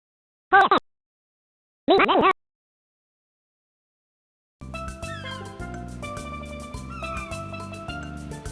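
A video game cat gives two short, clear synthesized meows separated by silence, followed by upbeat game music.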